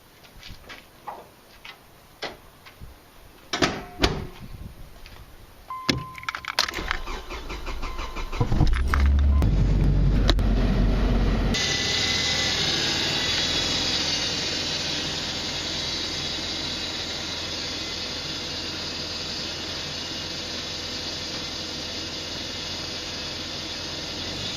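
A Mazda 626 with a swapped manual transmission starting up: key clicks and scattered clunks, a cranking starter, then the engine catching and settling into a steady, close idle hum that runs to the end.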